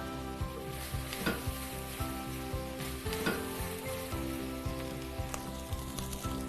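Vegetables and prawn shells and heads sizzle steadily in a soup pot for a classic French fish soup, with a continuous frying crackle and occasional stirring scrapes, close and moderately loud with no talk.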